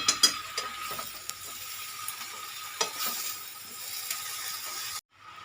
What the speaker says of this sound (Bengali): পুঁই শাকের পাতাটা আমি এক মিনিট সুন্দর করে নেড়ে নেবো